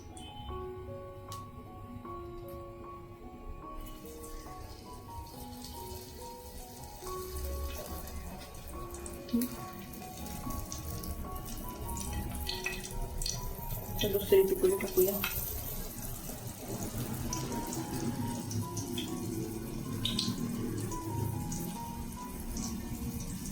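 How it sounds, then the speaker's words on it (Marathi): Ribbon fish pieces, dipped in batter, frying one by one in hot oil, with a continuous bubbling sizzle that grows fuller as more pieces go in, plus occasional clinks. "आता आपलं तेल गरम झालंय तर एक एक पिठात टाकून फ्राय करून घेऊया"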